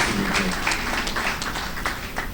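Audience applause at an international press night gala in Benin, a steady wash of clapping from a crowd that stays fairly loud and even throughout, with no break.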